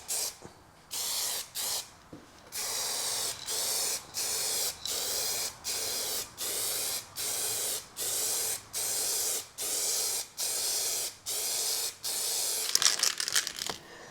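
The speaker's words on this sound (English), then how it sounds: "I am just using some simple rattle can spray paint" Rattle can spray paint hisses onto parts for a Magirus Deutz 170D11 truck in a steady series of about a dozen short, even bursts with brief gaps, close and alone.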